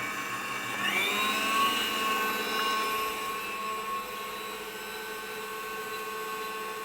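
An electric mixer whips cream past the whipped stage into butter, a steady loud motor whine with a rising harmonic pitch at the start that then holds constant throughout, with no talking.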